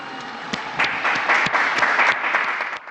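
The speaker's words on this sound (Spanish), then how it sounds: "Un aplauso a la nueva santa." A crowd applauds steadily for a newly proclaimed Argentine saint, dense clapping throughout that swells slightly in the middle before tapering.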